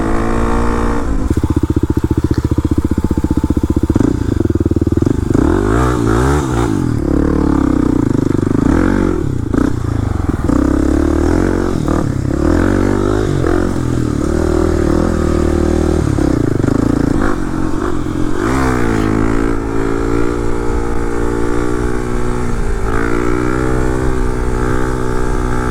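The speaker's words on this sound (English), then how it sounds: "another day, another rip on the KLX again" Kawasaki KLX dirt bike ridden on trails, its engine loud and close throughout, revving and dropping repeatedly with rising and falling pitch as the rider shifts and accelerates, with clattering and scraping from the terrain.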